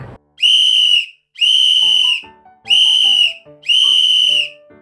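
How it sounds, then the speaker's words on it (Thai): A whistle blows four sharp, shrill blasts in a steady rhythm, with a light melodic tune playing between and beneath them. "นั่นก็คือเสียงของคนที่กำลังเป่านกหวีดอยู่นั่นเองค่ะ"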